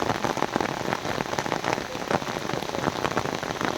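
Torrential rain pounds down over the lake at Nainital, a loud, dense, unbroken patter of drops hitting surfaces close by, with no voices.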